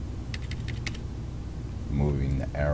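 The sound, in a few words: pressing computer keyboard keys in Photoshop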